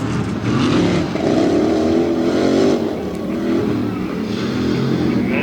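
Tough trucks race and slide across a grass track at a Lima, Ohio challenge final, engines roaring loudly and continuously with shifting revs throughout, no voices standing out.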